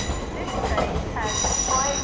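An LNER Azuma class 801 unit, 801-209, pulls away from a platform at Doncaster, its steady rolling rumble and rail noise filling the clip along with faint wheel squeal and a murmur of voices nearby.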